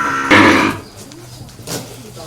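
Cattle mooing, a loud close low call at the start followed by a fainter second call, with some background voice.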